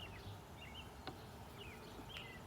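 Honey bees buzz softly around an opened hive, a faint, steady outdoor drone with a few brief nearby buzzes and chirps in the background.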